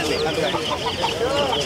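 A rooster and other fowl cluck and call repeatedly at a bird and animal market, close and busy, mixed with background chatter from people nearby.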